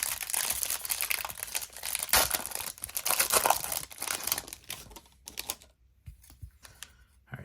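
A pack of Topps baseball cards torn open, loud close crinkling and ripping of foil wrapper for about five seconds, then quieter scattered rustles and faint taps as the cards come out.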